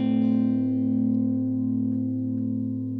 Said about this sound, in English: To create a shimmer reverb, we just need to put a pitch shifter in the middle.